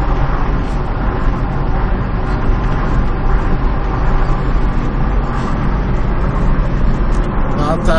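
Heavy car traffic crowds the road near a football arena on match day, a loud, dense engine rumble and road roar that persists steadily without letting up.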